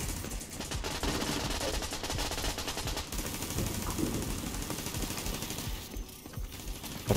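Sustained rapid turret fire rattles in The Division 2, a dense, continuous barrage of automatic gunshots that stays loud and relentless, briefly easing near the end.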